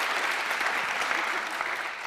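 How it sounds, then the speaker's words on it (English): Audience applause at a panel event on women, peace and security, a brief dense burst of many hands clapping together, steady and fairly loud throughout. "you can clap. Did I hear people wanting to clap? Yes, bring it on."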